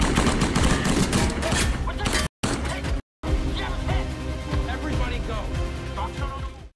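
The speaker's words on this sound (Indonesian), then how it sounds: "Aksi baku tembak itu" Rapid gunfire in a film shootout: dense bursts of shots and crackling impacts, loud and continuous, with a couple of brief hard cuts to silence and a voice partly under the shooting.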